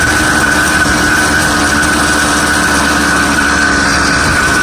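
A 66/80cc ZEDA motorized bicycle engine runs while being ridden, producing a loud, constant high-pitched buzzing drone with no pauses.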